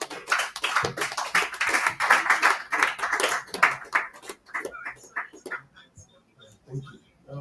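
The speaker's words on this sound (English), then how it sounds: "let's clap hands for him as he comes back here" Audience clapping at a meetup in Nigeria, a dense burst of many hands that stays steady for about four seconds and then thins into scattered, fading claps near the end.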